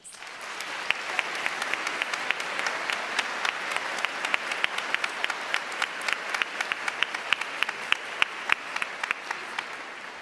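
Sustained applause from a large audience at the West Ottawa High School Class of 2025 convocation ceremony for graduating students, a dense, steady wash of clapping that holds evenly for about ten seconds without speech.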